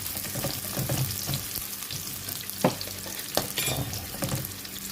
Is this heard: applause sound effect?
no